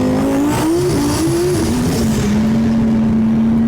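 A twin-turbo 2020 Audi R8, rebuilt after a wreck, accelerating hard from inside the cabin, a loud, rising engine drone that climbs steadily as boost builds, with a faint whine above.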